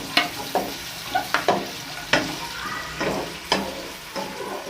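Onions fry in a pan while being browned for an aloo palak curry, with a constant background sizzle. Sharp spatula scrapes and stirring strokes cut through it at irregular intervals, about eight in all.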